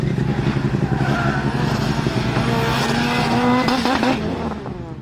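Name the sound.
Lancia Delta Integrale turbocharged engine accelerating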